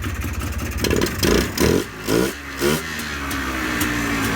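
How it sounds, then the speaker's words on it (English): A Predator Polaris 250 dirt bike engine, heard up close and loud. It idles steadily, gets several quick throttle blips that rise and fall in pitch, then settles back to a running idle. "I think this bike sounds healthier than the other bike."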